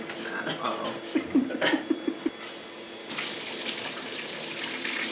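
Water starts gushing from a tap, a steady broadband rush that takes over in the second half after some chatter and a brief chuckle earlier, close by.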